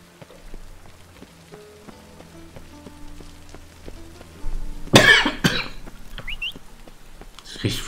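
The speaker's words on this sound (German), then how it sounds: "Ich kriege wieder das große Husten." A character in The Witcher 3: Wild Hunt bursts into a heavy cough about two-thirds of the way through, with a short rasping follow-up, over quiet game ambience with scattered musical tones and a rain-like patter.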